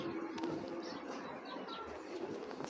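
Soft pigeon cooing in a low steady hum, faint against a busy background.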